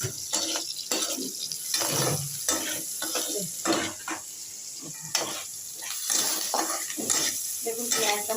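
Onion sizzles steadily in hot oil in a pan, with repeated scraping strokes of a spatula stirring through it, loud and close throughout.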